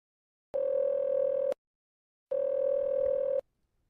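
Two long steady electronic beep tones, each about a second long, separated by a short silence, sound clearly and alone as an answering machine's record prompt.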